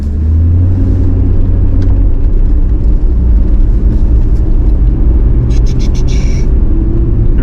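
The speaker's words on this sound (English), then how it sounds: "I'm going to drive downtown Hot Springs, North Carolina" A car drives through the Appalachian Trail town of Hot Springs, North Carolina, with a loud, steady engine and road rumble throughout and a brief brighter rattle near the end.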